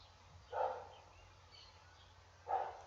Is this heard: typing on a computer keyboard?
no